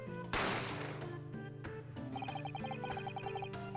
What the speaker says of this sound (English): a gunshot rang out from the dining area